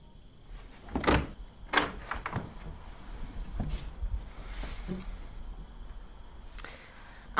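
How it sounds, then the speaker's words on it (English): A door is opened inside a house during a horror film scene, with a couple of sharp knocks and clicks early on followed by quieter shuffling and handling sounds, fairly close and moderately loud. "Let me in, or I'm going to open the door."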